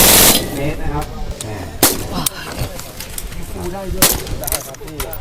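A gas-piston rifle is fired at a SIG Sauer demo day. Three sharp, loud cracks ring out a second or two apart, with a faint voice and outdoor background between shots.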